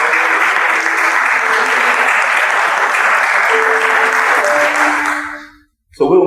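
A crowd claps steadily and loudly for several seconds, then the applause fades out and stops abruptly.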